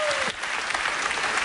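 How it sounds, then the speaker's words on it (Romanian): Audience applause fills a Romanian talent-show preselection stage after a judge's rejection vote, dense steady clapping throughout with a brief sung or spoken tone at the start. "Eu vreau să-l aplaudați, frate."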